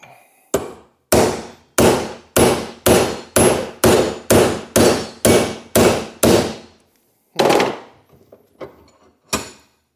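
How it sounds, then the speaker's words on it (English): Repeated heavy hammer blows strike a stuck door hinge on a Volvo 142, about a dozen loud, evenly spaced metallic-wooden knocks, then a pause and a couple of final hits, close and alone with no talk. "A little bit bigger hammer maybe."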